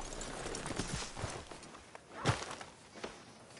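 In a PS4 western game, a horse's hooves clip-clop at a walking pace, quiet and uneven, with one louder thud partway through.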